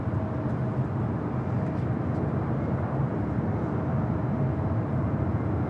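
A Frontier Airbus A321neo airliner arriving at LAX, a steady, loud broadband engine roar holding evenly throughout with no voices.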